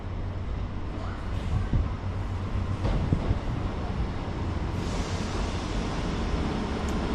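Northern class 769 train arriving at Bolton station, a low steady engine rumble with a humming drone and occasional clunks as it draws in, moderately near and continuous.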